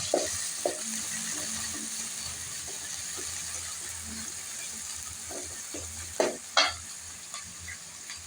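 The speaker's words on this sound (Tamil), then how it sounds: "2 வெங்காயம் மீடியம் சைஸ் வெங்காயம் கட் பண்ணி வச்சுல போடுறேங்க" Chopped medium onions and popped mustard seeds fry in a pan for chicken kulambu, giving a steady close sizzle with scattered spoon scrapes and a couple of louder stirring clatters near the end.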